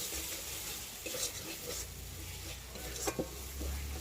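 Ginger-garlic masala is stir-fried in a pan: a low sizzle runs under scraping spatula strokes, with a couple of sharper knocks against the pan near the end.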